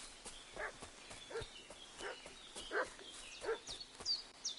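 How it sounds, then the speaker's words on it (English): Dog barking in the video game Kingdom Come Deliverance 2, a string of evenly spaced barks at moderate distance with faint bird chirps in the background. "What's that dog making such a fuss about?"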